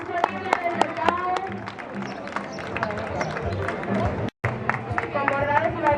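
An audience at an outdoor fashion show in Nueva de Llanes claps in a dense, continuous patter with crowd chatter and a voice over a loudspeaker running through it, the applause fairly loud and close.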